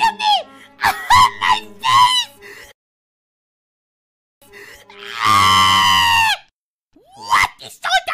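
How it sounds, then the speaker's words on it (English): Shrill, wavering screams ring out in bursts at close range, the longest one held for about a second, with stretches of silence in between. "What is all that screaming?"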